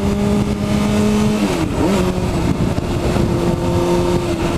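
A red Honda CBR 600RR sport motorcycle engine revving loudly and close, holding a steady high pitch, dipping briefly, then rising and holding again.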